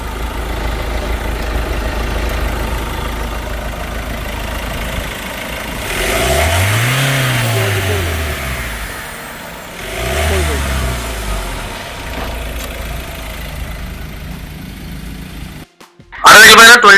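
A Toyota Innova Crysta engine runs steadily up close, then revs up twice with rising and falling sweeps, the second rev softer, before a brief loud knock at the end.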